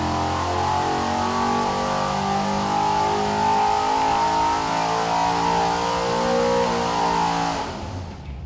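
A rebuilt car engine making 634 horsepower is held at full throttle on a dynamometer, a loud sustained roar that climbs steadily in pitch for several seconds before cutting off abruptly.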